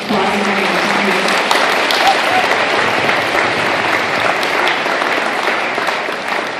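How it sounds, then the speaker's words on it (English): A school audience at a fourth-grade concert gives its teachers a round of applause, a loud, sustained wash of many hands clapping that stays even throughout, with a brief voice heard near the start. "So can you give them a round of applause?"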